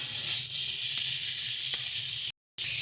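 Spices and Lotte fish cooked with radish sauté in a pan, a loud continuous close sizzle and hiss with faint stirring taps, broken by a brief dropout near the end.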